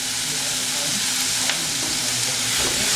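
Onions with a pinch of salt fry in a pan for chicken paratha, giving a steady close sizzle and crackle that runs unbroken throughout with small stirring clicks.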